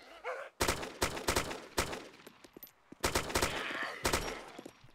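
Bursts of gunfire in the survival video game DayZ, several rapid volleys and single loud shots in quick succession, close and sharp, with a brief voice at the start.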